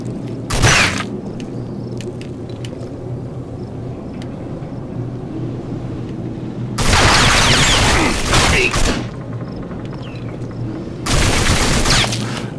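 Bursts of rapid automatic gunfire in the RAGE shooter video game: three loud volleys, a short one near the start and two longer ones later, with quieter stretches between.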